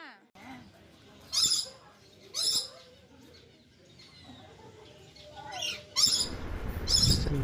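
Parrots, red and green ones among them, give several loud, harsh squawks in a bird park in Thanjavur, spaced a second or so apart, while people talk nearby.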